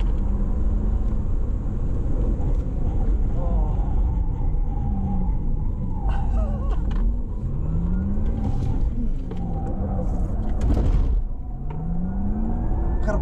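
Formula E electric race cars run laps of the Jakarta street circuit in 2022, their rising and falling electric motor whines sweeping past repeatedly over a steady loud rumble of crowd and track ambience.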